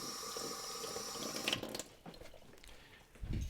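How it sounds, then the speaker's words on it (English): Tap water running as Evaporust is rinsed off hand plane parts, a steady faucet flow that breaks off into clattering splashes and short gushes of water, close and moderately loud with no talking. "I'm going to rinse the evaporust off."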